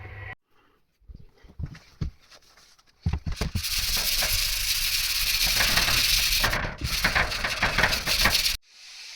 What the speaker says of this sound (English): we have sanded the surface of this metal